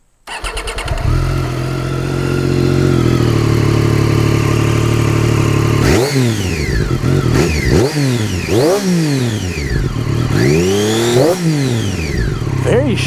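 A 2017 Triumph Daytona 675R motorcycle starts up and settles into a loud, close idle, then gets several sharp throttle blips that climb steeply and drop back between revs.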